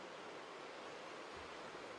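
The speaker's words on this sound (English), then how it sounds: "Look at that river." A river in Kenya's Sabi Sand wilderness rushes steadily, a soft, even wash of flowing water heard from a distance, with no voices.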